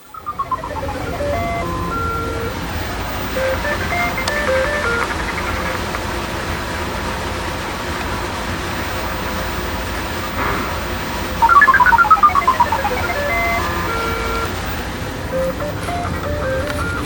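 Analog sound effects from a Nintendo Donkey Kong TKG2-03 arcade board set under repair play incorrectly as a steady tonal electronic drone. Falling sweeps appear near the start and again midway, where the output briefly gets louder.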